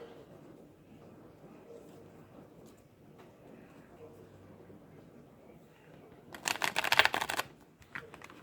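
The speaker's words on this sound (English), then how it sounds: "Shuffle the cards every quarter." Cards shuffled during a tabletop football game, a short burst of crisp riffling flutter about a second long, then a brief second flick, after quiet low background talk.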